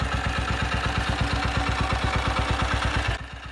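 A Panther Model 75 350cc single-cylinder British motorcycle engine from the 1950s runs close by, a steady even thumping beat at a fast idle that drops abruptly near the end.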